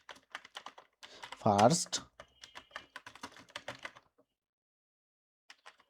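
Rapid clicking keystrokes on a computer keyboard in bursts, close and crisp, with a short spoken word breaking in partway before the typing trails off into silence with a few last taps.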